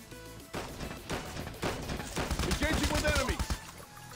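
Gunfire in the mobile battle royale shooter Call of Duty Mobile, with a series of sharp, close shotgun-like blasts about half a second apart, growing denser and louder after the first couple of seconds.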